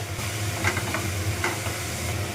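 A fish filling with jaggery, coriander leaves and amchur powder is stirred in a pan, giving soft scraping and shuffling over a steady low sizzle, with a couple of brief louder scrapes near the middle.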